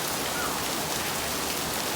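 Heavy rain pours down in a dense, even hiss with the patter of drops on surfaces, steady and loud throughout with no voices.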